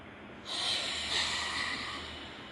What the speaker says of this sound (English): let's breathe in through our nose